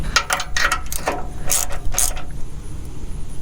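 A hand ratchet clicks in quick bursts while tightening sway bar end link bolts on a Mercury, Ford or Lincoln suspension, several loud, close ratcheting runs with brief pauses between.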